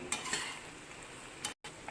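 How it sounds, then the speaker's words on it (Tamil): A spoon scrapes and stirs masala pasta in a pan, with soft clinks over a faint sizzle, close up. "நல்லா கிளறியாச்சு"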